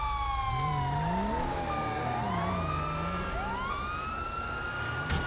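Police van sirens in a video game wail steadily with overlapping rising and falling tones, loud and continuous, with engine rumble beneath and no talk.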